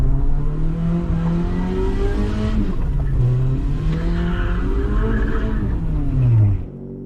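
A BMW E36 1.8is with no limited-slip differential pulls hard in second gear, its four-cylinder engine droning loud and close as revs climb, dip, and climb again before easing off at the end.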